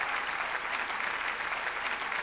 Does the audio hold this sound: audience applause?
yes